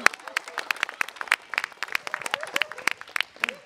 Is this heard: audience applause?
yes